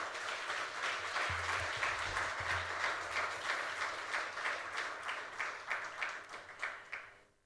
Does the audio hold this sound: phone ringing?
no